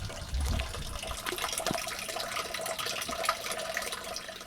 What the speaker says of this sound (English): listening to the sound of melting snow as the water runs into the drains